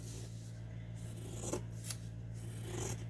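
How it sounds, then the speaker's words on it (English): Scissors snip through a paper sewing pattern in a few soft, quiet cuts along the lines, set over a steady low hum. "I'm going to very carefully cut on the lines."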